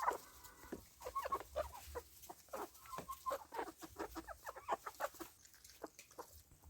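Countryside chickens cluck and peck in quick, irregular bursts, faint and fairly close, with soft scratching and low farmyard background noise between calls.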